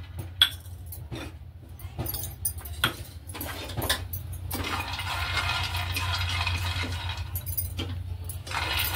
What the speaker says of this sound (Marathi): मसाला भाजण्याच्या आधी हे शेंगदाणे भाजून घेऊया